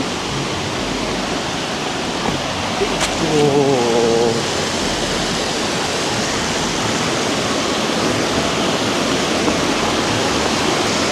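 Kaval waterfall in Hakkari roars steadily throughout, a loud broadband rush of falling water, with a brief faint tonal sound near the middle.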